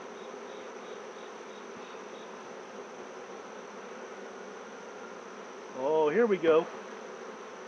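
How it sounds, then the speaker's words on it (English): Honey bees hum steadily and close throughout a beehive inspection, a dense continuous buzz, with a person's brief voice breaking in near the end. "Bunch of happy bees."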